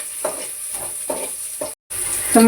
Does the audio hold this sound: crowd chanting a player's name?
no